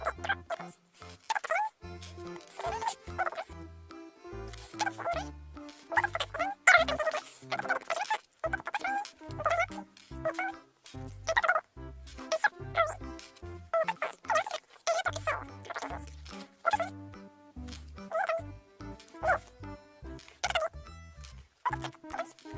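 Plastic packaging crinkling and rustling while Playmobil toys are unboxed: continuous busy crackling and crumpling, close and fairly loud for over twenty seconds, with occasional faint voice.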